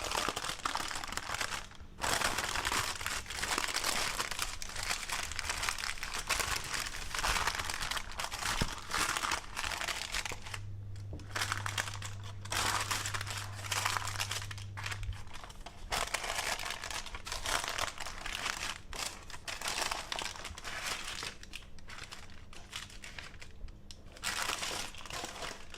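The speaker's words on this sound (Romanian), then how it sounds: "Îndepărtăm hârtia de copt." Baking parchment peeled off a cocoa egg-white cake: continuous crinkling and papery crackling, close and fairly loud, with brief pauses and a low steady hum in the background partway through.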